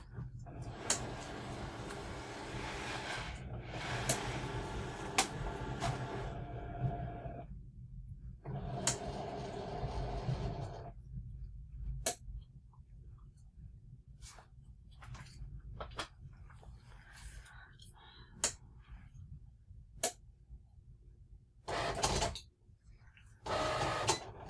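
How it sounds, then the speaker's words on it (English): A Cricut cutting machine working through everyday iron-on material makes soft mechanical whirring passes and intermittent clicks and taps, quiet and close, with a person speaking at times. "now the Cricut is about to cut"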